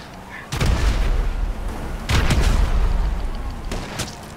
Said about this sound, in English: Drop a grenade.